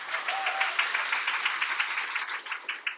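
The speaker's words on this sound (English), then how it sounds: "Everyone clap for Fred." Audience at a coding bootcamp demo day clapping for a team member: a short, dense round of applause with many overlapping hand claps, holding fairly steady for about three seconds.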